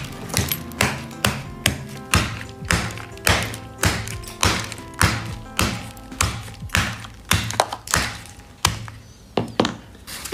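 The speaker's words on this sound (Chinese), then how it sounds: "用锤子凿的感觉还挺爽的。" A hammer chisels a hardened block of floral foam coated in plaster and sprinkled with candy bits, giving a steady run of sharp, close taps and thunks, about two per second, with no talking.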